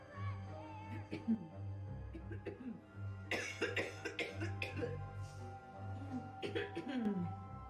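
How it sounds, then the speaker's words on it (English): Repeated harsh, raspy smoker's coughing fits over a constant low hum, with some voice sounds mixed in between the coughs. "Smoker's cough."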